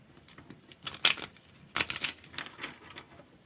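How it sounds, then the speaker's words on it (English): Tarot cards being shuffled by hand close by, quiet riffling and papery clicks that come in a few short bursts separated by near silence, with no talking. "Gonna shuffle them up a little bit, and we're just gonna lay them out."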